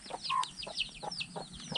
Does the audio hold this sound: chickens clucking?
yes